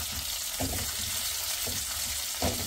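Green chillies fry in a pan with a soft, continuous sizzle, broken by three brief scraping stirs spaced across the few seconds.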